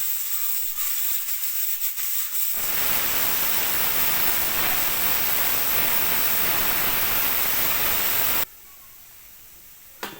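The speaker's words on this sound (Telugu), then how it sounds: "రెండో విజిల్ వస్తుంది" A pressure cooker cooking mutton curry gives its second whistle, hissing loudly and steadily for several seconds, then cuts off abruptly, leaving quieter kitchen background.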